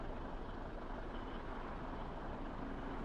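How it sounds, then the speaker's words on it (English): Freeway traffic passing overhead in American Truck Simulator, a steady broadband rumble of trucks and cars, continuous and even with no distinct passes or talk. "I can hear traffic in the freeway overhead going from right to left"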